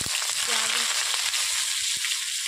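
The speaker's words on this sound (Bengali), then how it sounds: "হালকা তেলে আমি ভেজে নিচ্ছি" Black cumin, green chilies and bay leaf fry in a little oil, giving a strong, even sizzle that runs throughout with a few soft stirring clicks.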